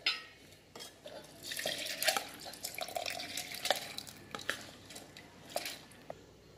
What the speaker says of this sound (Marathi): रवाही आपला भिजलेला आहे, हलकेच पाणी ओतायचं